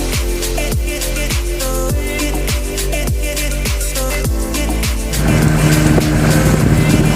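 An outboard motorboat engine drones loud and close while riding on the boat off a beach on a small island, its pitch pulsing in repeated dips before the engine note rises and roughens toward the end.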